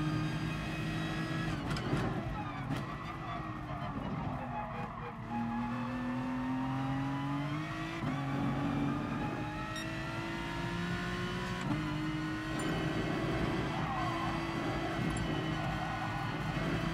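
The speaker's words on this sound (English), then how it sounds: "Listen to that engine, it sounds so good." A race car engine in the driving game GT Sport revs and shifts through gears, its pitch climbing and dropping repeatedly over a steady drone, with brief tire squeal, fairly quiet and without talk.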